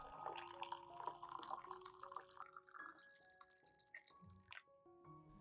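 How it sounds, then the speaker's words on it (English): About 500 milliliters of hot water poured into a glass cup of chopped garlic, a steady close splashing and trickling pour that tapers off into drips. "Add about 500 milliliters of hot water into the cup."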